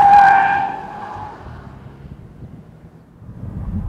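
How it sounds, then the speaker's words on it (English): An Audi S8 brakes hard from 60 mph to a stop on a test track, giving a loud tire squeal at first that fades within about a second, leaving low road and wind rumble. "now for our 60 to 0 braking test"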